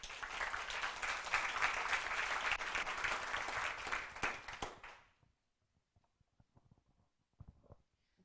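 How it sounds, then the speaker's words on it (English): An audience applauds at a 1 Million Cups Wichita pitch event, dense clapping lasting about five seconds before fading into near silence with a few scattered claps and soft noises. "let's give him a round of applause."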